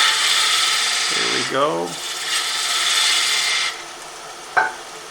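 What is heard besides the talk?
cutting a small bevel on solid wood decoration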